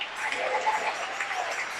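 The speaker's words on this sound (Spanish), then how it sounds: "Dale un fuerte aplauso al Señor." A church congregation breaks into sustained, dense applause during a Spanish-language sermon, many hands clapping steadily at moderate loudness for the full stretch, with faint voices mixed into the crowd noise.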